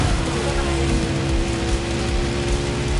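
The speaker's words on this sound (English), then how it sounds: "the rain has eased off and the dirt roads are much more passable now" Steady rain pours down in the driving game The Crew, a dense, even hiss of drops hitting surfaces that stays loud and constant for the whole stretch, with no voices over it.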